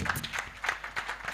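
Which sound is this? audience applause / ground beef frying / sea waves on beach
audience applause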